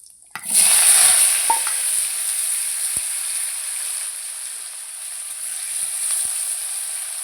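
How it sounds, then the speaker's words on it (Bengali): Chopped potatoes frying and stirred in oil in a wok, a loud close sizzle bursting up after a sharp start, then settling into a steady hiss with occasional utensil scrapes. "আলুটাকে একটু ভালো করে ভেজে নেব"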